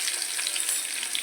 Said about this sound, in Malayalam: അതിന് ശേഷം നമ്മൾ സവാളയും അതുപോലെ തന്നെ പച്ചമുളക് അരിഞ്ഞ് വെച്ചിട്ട് തന്നിട്ട് ഇതിലേക്ക് കൊടുക്കാം.